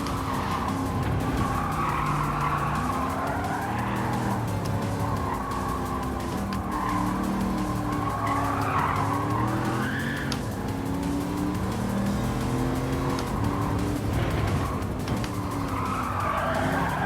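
Car tyres skidding and squealing as a car slides through corners in Gran Turismo 7, a continuous loud screech with wavering pitch over steady engine drone, rising and falling with each slide for the whole stretch.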